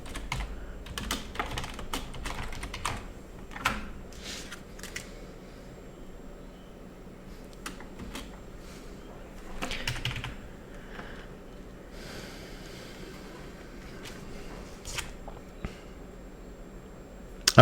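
Typing on a computer keyboard, irregular bursts of close key clicks and taps with short pauses between them, alone without speech.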